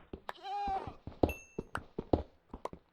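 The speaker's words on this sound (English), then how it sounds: "That must have been a bleat of a goat." A goat in Minecraft bleats in a single drawn-out, wavering call near the start, followed by scattered thumps and clicks from block breaking and footsteps.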